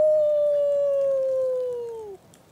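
A voice imitates a wolf in a long, clear howl that slowly falls in pitch and cuts off, heard from a Life is Strange 2 video game scene outdoors.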